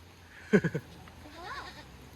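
A few short goat bleats close by in the Philippines, three quick calls in a row, followed by a softer wavering bleat with light background noise.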